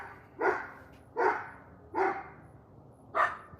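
Four evenly spaced barks from a nearby dog ring out alone, each sharp and fairly loud with short pauses between them.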